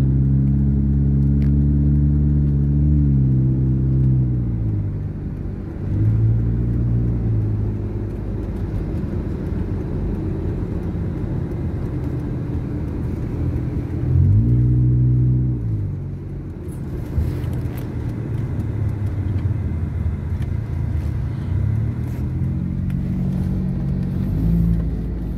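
Cars and other vehicles move through heavy city traffic in Cebu. A continuous low engine rumble swells and fades as vehicles pass nearby, with occasional acceleration surges over the steady drone.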